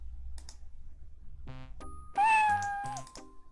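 A cat meows once in the Quest for Glory IV game, a clear rising then falling mew amid short synthetic game tones and soft clicks.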